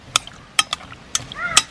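A spoon stirs jackfruit pieces with a little water and salt inside a pressure cooker, making several sharp, close metallic clinks and scrapes at uneven intervals over quiet background.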